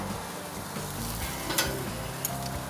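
Steak and sausage searing on an outdoor grill alongside corn and vegetables, a steady close crackling sizzle with a couple of sharper pops, no talking.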